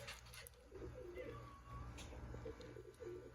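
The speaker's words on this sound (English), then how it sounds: "I have my pigeon right here. My pigeon bird right here." A pet pigeon coos softly in a backyard garden, low rounded calls repeating in a slow rhythm, faint and close, with some quiet background noise.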